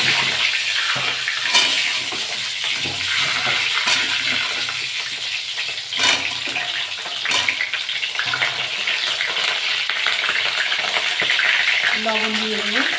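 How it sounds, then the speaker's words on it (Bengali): Potatoes fry in hot mustard oil for a chicken-and-potato dish, giving a steady, loud, broadband sizzle that runs throughout with occasional stirring clatter and no talking. "তেলটা গরম হয়ে গেছে, আমি এবার আলুগুলো দিয়ে দেবো।"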